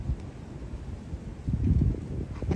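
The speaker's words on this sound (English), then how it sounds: "Wow, so windy." Strong evening wind outdoors buffeting the microphone, a low rough roar that gusts louder toward the end, with no talk.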